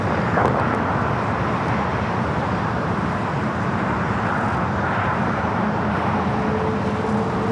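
Air France Boeing 777 airliner at Los Angeles LAX airport, a broad continuous jet roar with steady rushing noise, moderately distant and unchanging over several seconds, mixed with faint road traffic.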